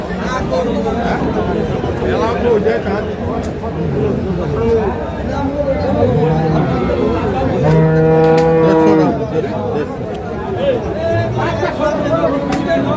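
Dairy cows at the Khochabari cattle market in Thakurgaon, Bangladesh, with a loud drawn-out moo standing out near the middle over constant crowd chatter and nearby talking.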